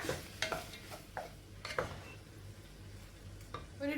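A spoon stirs cooked rice into a carrot and egg masala in a pan, a few soft scrapes and taps over a faint sizzle, quiet and close.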